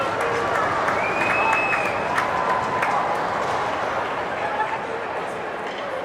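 A crowd at a high-school ice hockey cup final, Diman versus Somerset-Berkley, gives a sustained roar of cheering and clapping. Faint sharp accents and a brief whistle-like tone come through, and the roar eases slightly toward the end.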